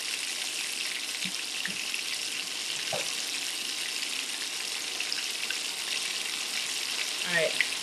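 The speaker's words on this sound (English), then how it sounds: "All right, I'm going to wash my hands." A kitchen tap runs steadily while hands are washed during a live cooking class, a close, continuous broadband hiss of water with a few faint knocks and splashes.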